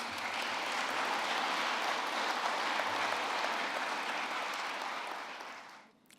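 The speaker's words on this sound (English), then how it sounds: "another round of applause, please" An audience at an Indigenous reform event in Brisbane gives a sustained round of applause that holds steady, then tapers off and dies away near the end.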